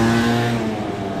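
A car passes on a Paris street, a close engine rumble with a brief revving tone that fades away within a second.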